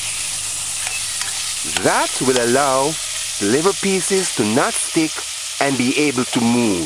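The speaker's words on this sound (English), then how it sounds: "Stir it in a few times while it's cooking." Liver pieces frying in a pan make a quiet sizzle, with stirring scrapes early on, before a person starts talking over the cooking.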